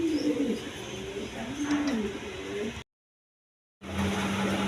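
Pigeons coo at a pigeon market where pairs are sold, a few low rolling calls in a busy outdoor din, cut by a second of silence before the noisy crowd returns.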